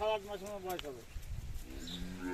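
A Sahiwal bull calf at a cattle sale in Dinajpur gives a few short, nasal moos up close, followed by a quieter, lower bellow.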